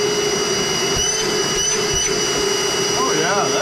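A cordless battery-powered vacuum cleaner with a heavy-duty flexible hose runs steadily at close range, a continuous whine with faint background noise and no speech.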